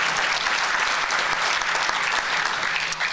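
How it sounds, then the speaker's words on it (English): An audience at an awards luncheon for Keep Louisiana Beautiful's Everyday Hero Awards breaks into steady, sustained applause, many hands clapping in a dense patter throughout. "that deserves a round of applause."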